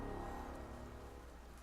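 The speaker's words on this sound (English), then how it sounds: "The rain never let up." Steady rain pours down in the dark fantasy game Ender Lilies: Quietus of the Knights, a continuous broadband hiss with low rumble beneath, fairly quiet and unbroken, with no voices.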